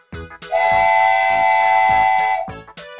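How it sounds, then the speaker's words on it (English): A train whistle sounds one long, steady, loud tone lasting about two seconds, set within a bouncy children's song with a beat. "T is for train."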